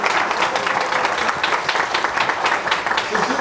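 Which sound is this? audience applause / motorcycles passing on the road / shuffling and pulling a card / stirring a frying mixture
audience applause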